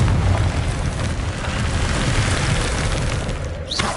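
Bombarda and Confringo spell explosions in Hogwarts Legacy on PS5, a loud sustained rumbling blast with crackling debris that rolls on for several seconds, ending in a short rising whoosh.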